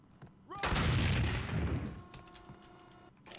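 A single loud grenade blast in Max Payne 2 bursts in suddenly, then rumbles and fades over about a second and a half, leaving faint ringing tones and quiet background clatter.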